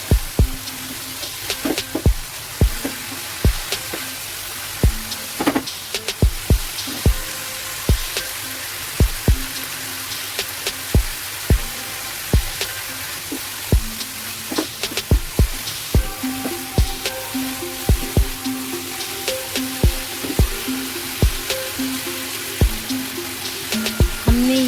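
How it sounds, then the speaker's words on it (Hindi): Masala paste for a home-style chicken curry fries in a pan with a steady, bright sizzle, punctuated by frequent sharp pops and spatters throughout, loud and close, with no talking. "मसाला भूनना चाहिए अच्छे तरह से"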